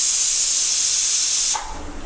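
A pressure cooker cooking plantain releases a loud, continuous hiss of steam that cuts off abruptly, leaving a softer residual hiss.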